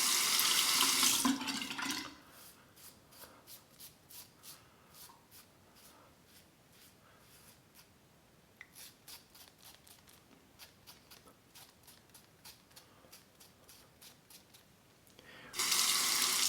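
Tap water runs steadily for a razor rinse between shaving passes with a Mach3 cartridge razor, a moderate continuous stream lasting most of the stretch, with louder brief sounds at the start and end.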